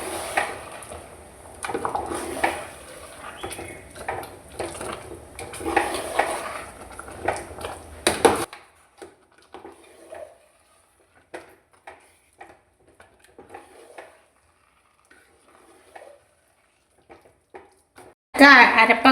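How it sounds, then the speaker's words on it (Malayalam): A spoon stirring ground coconut paste into a pot of jackfruit erissery curry: scattered soft scrapes and clinks against the pot. Someone talks over the first half, then quieter stirring sounds continue alone. "അരപ്പ് ചേർത്ത് നന്നായി ഇളക്കി കൊടുക്കാം."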